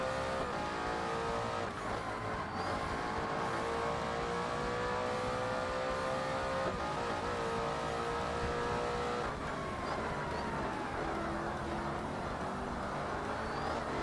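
A race car engine in Forza Motorsport at Laguna Seca drones loudly and continuously. Its pitch steps up and down through gear changes, including a downshift, and faint tire squeal comes through. No voices are heard.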